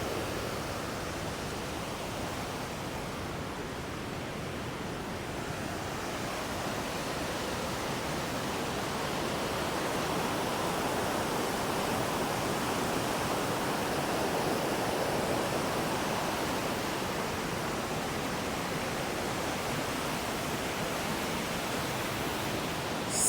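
The river current at Hogenakkal rushes by in a heavy, unbroken roar of fast-flowing water, loud and steady throughout with no voices.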